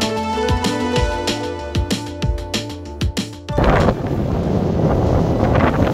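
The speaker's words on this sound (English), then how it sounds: "The wind really just picked up" Strong wind gusts roar into the microphone on the summit of Meall Teanga above Loch Lochy, near Fort William, Scotland, on a wet, overcast day. A steady, loud rushing takes over about halfway through, after an opening stretch of rhythmic tonal sound.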